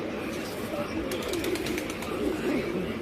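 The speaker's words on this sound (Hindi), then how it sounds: "छोड़ता रहे कबूतर" A burst of rapid wing flaps from several pigeons released one after another at a pigeon flying competition, with soft cooing and someone talking over steady outdoor background noise.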